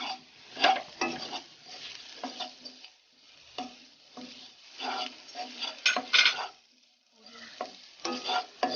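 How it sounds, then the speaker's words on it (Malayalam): Spiced masala with curry leaves is stirred in a pan, a series of close, distinct scraping and clattering strokes against the metal over a light sizzle, with brief quiet gaps between bursts. "എന്നിട്ട് ഇതൊന്ന് ഇളക്കി കൊടുക്കുക."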